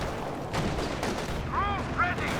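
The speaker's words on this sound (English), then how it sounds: "We've got the heavy mortar coming down as well." Heavy mortar fire in the Company of Heroes 2 strategy game, a steady rumbling battle din with a few louder blasts and whistling tones near the end, under faint game noise.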